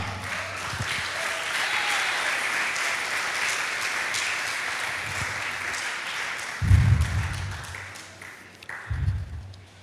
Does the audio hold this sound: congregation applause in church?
yes